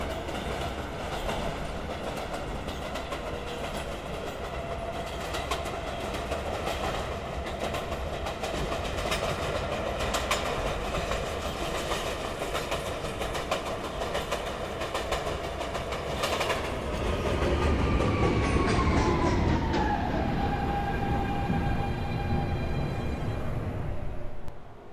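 A Manhattan-bound New York City 1 subway train rumbles and clatters steadily along the track, then its pitch slides downward with rising whines and squeals as it slows near the end.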